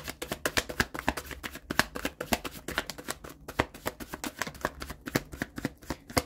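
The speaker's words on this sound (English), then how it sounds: "I'm not taking those because I hadn't shuffled yet." Rapid riffling and snapping of a tarot deck being shuffled, repeated crisp bursts in quick succession, close up with no voices.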